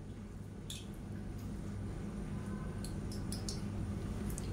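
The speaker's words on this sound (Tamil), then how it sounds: "நல்லா கைவிடாமல் கிளறிட்டே இருக்கலாம்." Soft Mysore pak mixture stirred steadily in a pan, with faint, intermittent squishy scrapes over a low, constant background hum.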